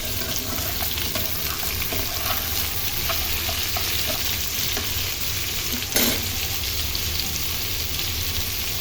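Sliced bitter gourd and potatoes frying in plenty of oil with onion and garlic, a steady loud sizzle throughout with faint scraping stirs and one sharp clatter partway through.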